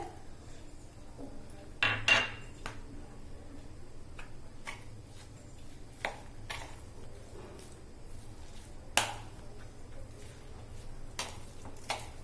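Tomato is stirred into a bread pizza topping in a bowl, with scattered light ticks and clinks of a spoon against the bowl and a few sharper knocks over a quiet background.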